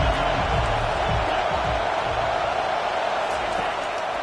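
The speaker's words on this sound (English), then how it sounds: "Decibels rising as the crowd gets behind this defense on third down." A football stadium crowd roars for the defense on a third down, a dense, sustained wall of cheering and noise that stays loud and steady throughout, with a commentator's voice faintly underneath.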